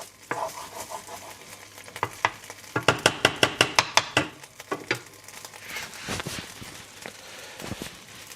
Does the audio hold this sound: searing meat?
yes